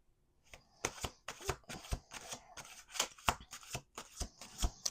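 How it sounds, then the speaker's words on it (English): A deck of playing cards is riffled and bridged several times in quick succession, crisp fluttering bursts with short gaps, close and alone with no talking. "We're gonna do 2 more shuffles."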